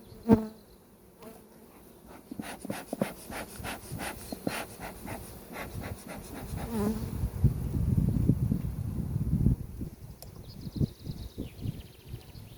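Honey bees buzz steadily around a hive during a colony inspection, a close insect drone with scattered clicks and taps, louder in the middle stretch.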